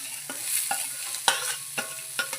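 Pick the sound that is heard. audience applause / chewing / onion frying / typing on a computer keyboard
onion frying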